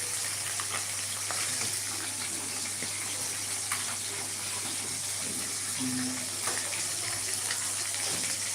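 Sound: fish frying in oil

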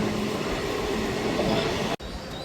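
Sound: MEMU train departing Tadepalligudem station

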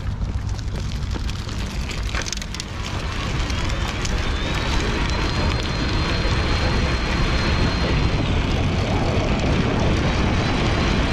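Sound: folding e-bike pedaled fast in lowest gear, Sturmey Archer hub

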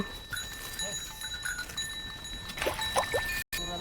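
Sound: cattle heading home

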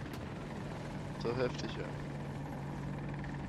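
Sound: AH-64 Apache attack helicopter rotor in a video game

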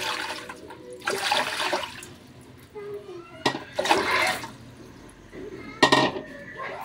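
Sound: water poured into a pot for cooking pork belly

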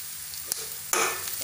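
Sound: frying onions with curry leaves and turmeric

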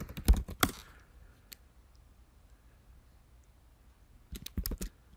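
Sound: typing an email address on a computer keyboard

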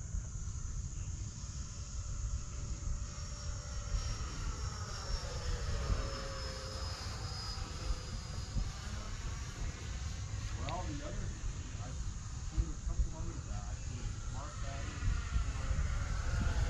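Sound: Arrows Marlin RC jet flying

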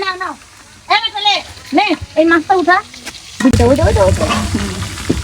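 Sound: fish frying on a clay stove

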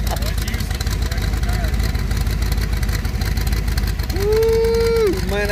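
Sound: Chevrolet S10 truck engine, 800 horsepower, running

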